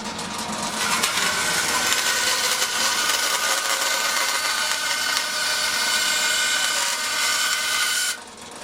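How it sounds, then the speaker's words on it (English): A bandsaw cutting through wood in a guitar-making workshop, a loud, continuous whining buzz that holds steady for about eight seconds before the cut ends and the sound drops off sharply. "I haven't got much chance of cutting anything straight with that bandsaw blade"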